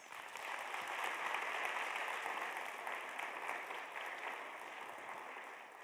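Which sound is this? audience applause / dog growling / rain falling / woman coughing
audience applause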